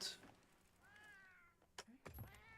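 A house cat meows several times in short, close, clear calls, with a person talking faintly around them and a brief bump or knock partway through.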